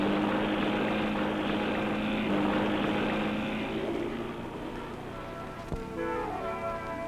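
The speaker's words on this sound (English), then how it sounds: "Outboard racing is popular." Racing outboard motorboats roar across calm Florida bay waters, a loud steady engine whine with droning harmonics that eases slightly and shifts pitch as the boats move past, with no voices.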